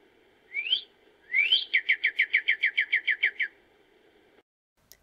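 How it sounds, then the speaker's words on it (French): A bird calls out two rising whistled notes, then a quick, even run of about a dozen chirps, clear and close against a quiet background. "Oui, un oiseau."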